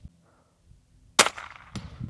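A single sharp long-range rifle shot fired at a distant target, a loud broadband crack at about 1.2 seconds with a decaying echo, then a second fainter report or impact sound near the end; quiet beforehand.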